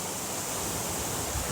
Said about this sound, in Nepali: बब्बाल छ झर्ना